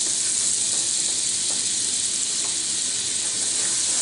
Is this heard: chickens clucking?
no